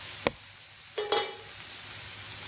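Fish fries in a covered pan over a medium flame, a faint steady sizzle broken by a couple of sharp clinks, with no talk.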